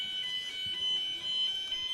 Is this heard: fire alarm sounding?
yes